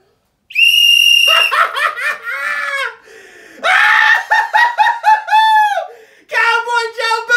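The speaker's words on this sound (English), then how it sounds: "Let me get a whistle." Loud, piercing whistling with shrill, warbling sliding tones comes in several long bursts separated by brief pauses, close and dominant.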